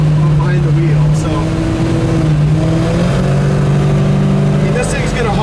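A 1971 Dodge Dart Swinger engine running loud and close with a deep, steady rumble whose pitch rises and dips slightly as it is revved, with voices talking over it.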